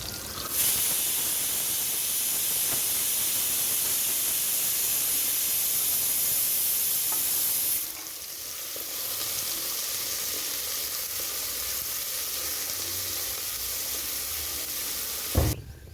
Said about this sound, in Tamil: சேர்த்தி நல்லா வதக்குறோம்.